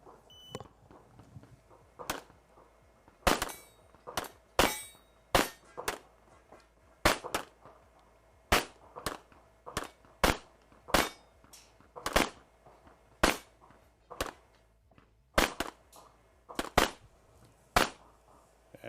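A rapid string of handgun shots on a stage at the European Handgun Championships rings out across the range, many sharp reports with clanging hits on steel targets, spaced in uneven bursts and pauses, moderately distant.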